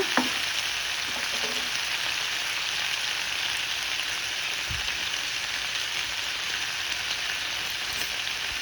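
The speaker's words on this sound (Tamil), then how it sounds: "இந்த தக்காளியை வந்து இந்த எண்ணெயில் இன்னும் கொஞ்சோண்டு எண்ணெய் வேணாலும் சேர்த்துக்கிட்டு அதையும் நல்லா வதக்கிடுங்க" Tomatoes sauté in oil for a pepper chutney, giving a dense, continuous hiss of frying that stays even and close for the whole stretch, with only a faint utensil tap or two and no voices.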